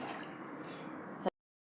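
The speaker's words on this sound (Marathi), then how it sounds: "आता इथे पाण्याला चांगली उकळी आली आहे" Water boils in a pot with a steady bubbling hiss, ending in one brief louder pop before cutting off.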